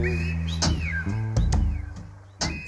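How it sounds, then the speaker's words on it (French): El Silbo, a whistled language, heard as several clear, gliding whistled tones that rise and fall. Short pauses separate them, and sharp bursts cut in between. The whistling is close and fairly quiet. "C'est un langage sifflé, c'est un véritable langage sifflé."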